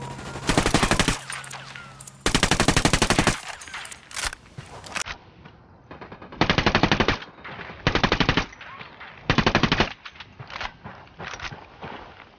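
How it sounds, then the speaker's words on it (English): Gunfire from Ghost Recon: Wildlands erupts in several loud automatic bursts, each lasting about a second, separated by short pauses and softer movement sounds. "Opening fire."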